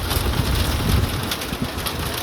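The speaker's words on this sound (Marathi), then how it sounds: "तुम्हाला पाऊस दाखवते इथं किती पडतंय" Heavy rain pours steadily outdoors, a dense, loud hiss of drops with a few louder splashes and some wind buffeting the microphone, and no voices over it.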